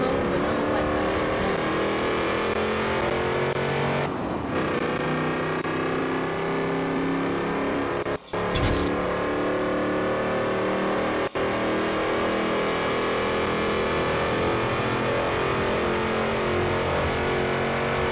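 A Cadillac's engine drives in Forza Horizon 4, droning loudly and continuously with shifting pitch as it revs, broken by a couple of brief cuts.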